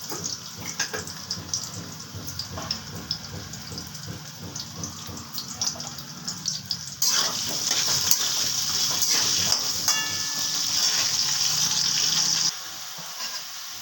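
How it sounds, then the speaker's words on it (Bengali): Potatoes fry in a pan with a steady hiss and crackle, growing brighter and louder midway, and close utensil scrapes are heard now and then. "আলুগুলো আমার ভাজা হয়ে গেছে, মোটামুটি তুলে নিচ্ছি।"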